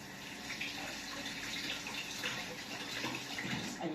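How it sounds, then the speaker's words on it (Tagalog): Onions are washed under a running kitchen tap, a steady close splash and gush of water with soft faint handling beneath it. "Hugasan ko po itong sibuyas."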